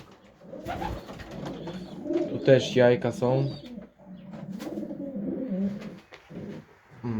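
Pigeons coo in low, throaty bursts beneath close conversational speech, with the birds' murmuring rising in the middle and continuing faintly behind the voices.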